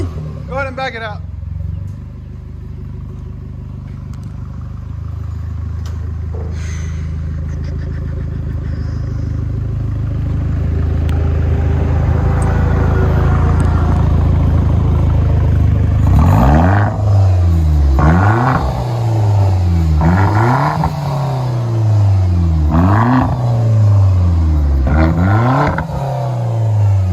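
Hyundai Genesis Coupe 3.8 liter engine: a steady loud idle builds into a deep, strong rumble, then a series of sharp repeated revs rising and dropping in quick succession, close and loud throughout.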